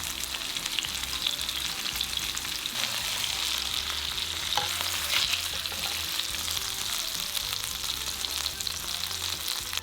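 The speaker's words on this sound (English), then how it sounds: "Pan fry until lightly brown on both sides for about 3 minutes in total." Chicken breast fries in a pan for teriyaki chicken, a steady, dense sizzle that stays close and fairly loud throughout, with no voices.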